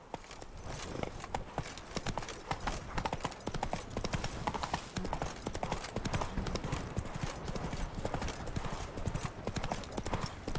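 A horse's hooves clip-clop in a steady rapid gallop while it is ridden in The Witcher 3: Wild Hunt, loud and close throughout, with a faint voice briefly over it.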